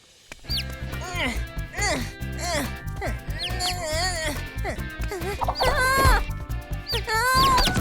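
A cartoon chick clucks and peeps in quick, bright bursts throughout, loud and close, mixed with animated voices and background music.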